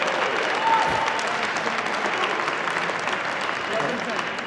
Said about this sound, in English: You can hear the crowd, PJ.